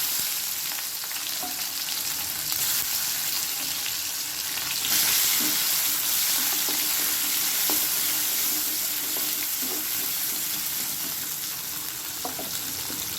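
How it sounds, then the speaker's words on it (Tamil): Mustard seeds, curry leaves, green chili and tomato fry in hot oil with a loud, steady sizzle and crackle close up, plus a brief burst of stronger spitting partway through, with no voices. "கடுகு நல்லா பொறிஞ்சதும் அடுத்து கருவேப்பிலை போட்டுக்கலாம் ஒரே ஒரு பச்சை மிளகாய் அடுத்து தக்காளி"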